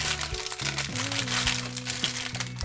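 Plastic wrapping from surprise egg toys crinkles and crackles close by in small bursts, running under steady tonal background music.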